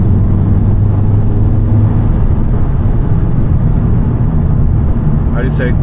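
Engine of a 2022 Volkswagen Polo GTI pulling hard under acceleration, a loud, steady drone filling the whole stretch with a brief sharper sound near the end.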